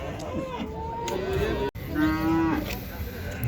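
Cattle moo loudly nearby at a livestock market in Uzynagash, Almaty region, Kazakhstan, two long low calls one after another, over a murmur of people talking in the background.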